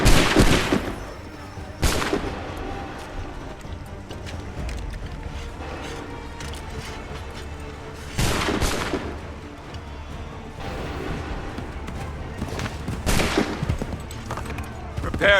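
Musket volleys crash out in four separate bursts in the video game Assassin's Creed III Remastered, each a loud, sharp wave of gunfire fading into a lower background rumble between shots.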